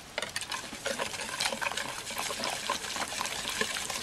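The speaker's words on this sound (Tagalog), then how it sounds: "Haluin natin mabuti." A spoon stirs kutchinta batter mixed with lye water in a bowl, a steady wet swishing with light scraping taps, close and continuous with no talking.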